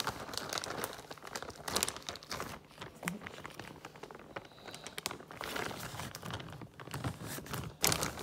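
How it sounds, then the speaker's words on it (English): Plastic bag crinkling close by as a trifle sponge is worked out of it, a busy stretch of rustles and crackles running throughout with a couple of sharper crunches. "Take it out of the bag, try not to break it."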